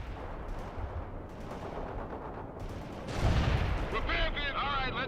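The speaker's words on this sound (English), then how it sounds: "Bradley returning fire at hostiles" Bradley fighting vehicle firing in World in Conflict, bursts of heavy gunfire with booming impacts that swell louder toward the end, amid busy battlefield noise and radio-style voice chatter.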